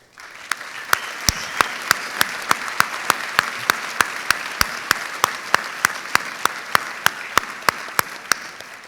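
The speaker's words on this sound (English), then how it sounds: "one more round of applause for all of our students" At a community college commencement, applause rises for the graduating student government members. Sharp, evenly spaced claps ring out in a steady rhythm over a soft bed of wider clapping that lasts the whole stretch.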